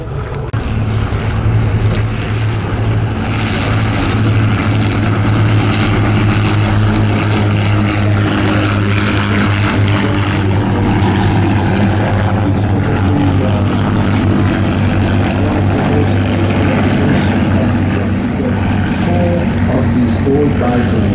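WWI-era biplane engines droning steadily overhead at the Flying Legends airshow at Duxford, England, a continuous loud propeller hum with faint crowd noise underneath.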